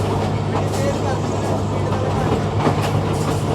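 A Pakistani local train between Lahore and Shorkot picking up speed, a steady loud rumble with rhythmic rail clatter throughout, riders on the roof, and voices in the background.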